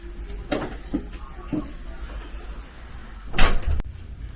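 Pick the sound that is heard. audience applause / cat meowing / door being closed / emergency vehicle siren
door being closed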